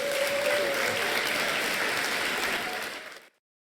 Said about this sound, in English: Give yourself the applause.